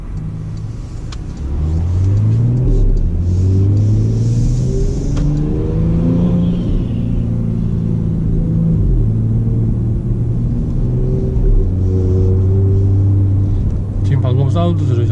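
A Porsche Panamera 4 E-Hybrid Sport Turismo engine revs loudly and steadily, pitch rising and falling through several sweeps, with a voice talking over it.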